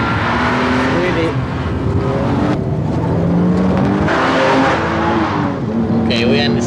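A BMW M car accelerates down a race track straight, its engine note climbing steadily and loud throughout, with a voice talking over the engine.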